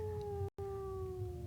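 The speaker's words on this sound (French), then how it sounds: "Parfois, on entend les loups hurler là-bas, dans la forêt." Wolves howl in a snowy winter forest, a long sustained wavering howl with a second voice layered under it, steady and fairly clear against a low rumbling background, broken by a brief silent gap.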